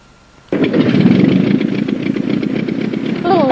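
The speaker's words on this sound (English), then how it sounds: "Bob the pilot started the engine." A small plane's engine starts up with an abrupt onset, then settles into a loud, steady droning rumble that continues to the end, with a slight rise at the close.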